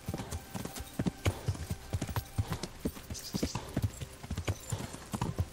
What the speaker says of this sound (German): Unser Pferd hält echt lange durch, hier im schnellsten Galopp zu reiten.